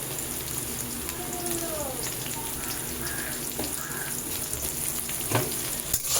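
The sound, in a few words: garlic and green chilies frying in oil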